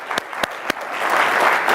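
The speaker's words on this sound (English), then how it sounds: "applause, please" A live audience at a church service claps for a guest speaker, beginning with a few sharp separate claps that swell into steady, loud applause filling the room.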